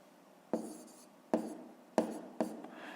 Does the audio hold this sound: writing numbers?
yes